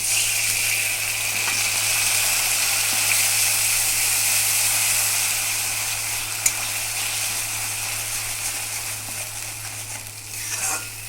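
Spices with a bay leaf and garam masala sizzle and hiss steadily in a hot pan after a splash of water, for a shrimp malai curry, with the sizzle easing slightly toward the end and a faint clink midway.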